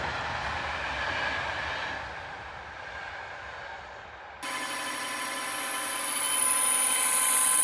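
A train rumbles past steadily, then a bright metallic ringing and squeal join in, growing louder toward the end.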